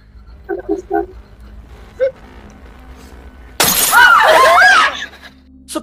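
An expensive drinking glass shatters abruptly, a loud bright crash with ringing shards that rings on for about a second after scattered quieter knocks and noises.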